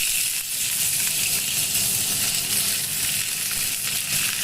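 Arum stems are added to hot oil tempered with bay leaf and black cumin, giving a loud, continuous hissing sizzle that stays dense and even throughout.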